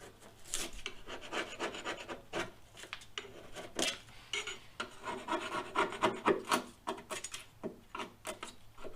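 Repeated rasping scrapes of a scraper against a fender, in uneven strokes with brief pauses, close and fairly quiet.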